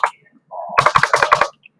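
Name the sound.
typing a name on a computer keyboard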